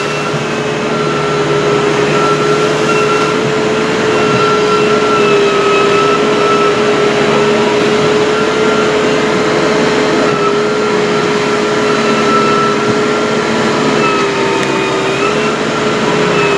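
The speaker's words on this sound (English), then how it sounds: "It's a good thing about when you got a tractor with a front load on it." A tractor with a front loader working a clay food plot, its engine running at a steady, loud drone with a constant tonal hum for the full length and no pauses.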